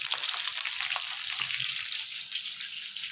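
Chicken pieces for butter chicken frying in a pan, a steady close hiss and crackle of hot oil that continues without pause and without any voices.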